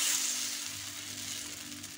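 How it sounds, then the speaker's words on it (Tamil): Egg dosa batter hits a hot iron tawa in a village kitchen, giving a steady, close hiss of sizzling that fades slightly over two seconds, with no voices. "இப்போ வந்து டவாவை காய வச்சு தோசை ஊற்றிக்கலாம்"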